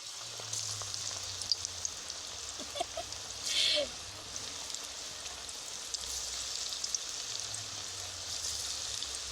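Jackfruit pakoras deep-fry in hot oil in a wok with a continuous close sizzle, a short louder hiss as more batter goes in, and faint low sounds beneath.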